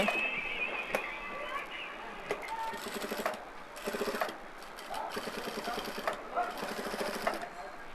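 A sewing machine runs in short bursts of rapid mechanical stitching while a shirt sleeve placket is sewn. The bursts have brief pauses between them and a voice talks quietly at times.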